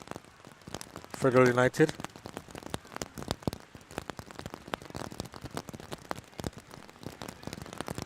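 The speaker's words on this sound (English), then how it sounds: "As it continues to rain here at the Captain Horsburgh Centre of Excellence." Steady rain falling on an outdoor football pitch during a women's premier league match in Jamaica, a soft continuous patter of drops with brief commentary voices over it.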